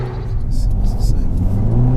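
Mercedes A35 AMG hatchback with a dual-clutch gearbox pulling hard under full power, a loud, steady engine drone heard close from inside the cabin, with people talking over it.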